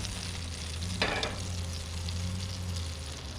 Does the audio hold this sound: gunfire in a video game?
no